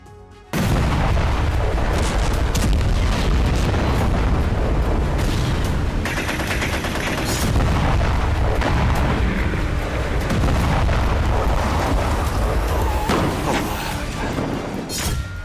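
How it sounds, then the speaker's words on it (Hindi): A bomb blast in Turbat, Balochistan province, Pakistan, sets a bus ablaze, heard as a loud, continuous roar of booming, rumbling explosive noise and crackling that fills the whole span after a sudden onset, with no talk. "एक जोरदार धमाका हुआ और एक बस आग की लपटों में घिर गई।"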